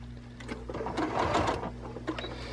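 A sewing machine runs in short, rapid stitching bursts, stopping and starting without pauses for cutting, as face mask pieces are production-sewn close by under a steady motor hum.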